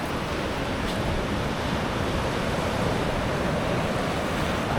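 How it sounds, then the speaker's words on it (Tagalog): Sea waves at Ba Tonying Beach in Allen, Northern Samar, roll in as a constant loud wash of surf with some wind noise on the microphone. "Yan po yung dagat."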